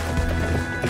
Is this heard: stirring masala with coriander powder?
no